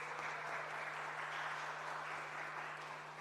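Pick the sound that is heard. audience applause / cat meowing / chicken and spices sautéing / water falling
audience applause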